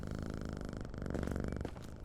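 A cat purrs steadily and close in the video game Quarantine Zone, a continuous low rumbling drone with faint background game ambience.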